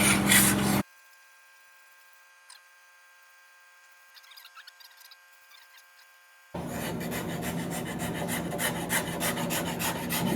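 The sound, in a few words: metal scraper smoothing wood on an instrument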